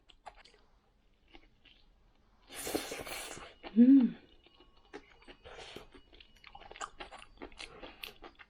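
Crispy kimchi jangtteok, a pancake with doenjang and gochujang, is bitten and chewed close by, with a loud crunchy bite followed by softer, scattered chewing and small crunches.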